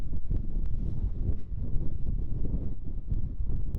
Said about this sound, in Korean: 바람이 좀 불어요.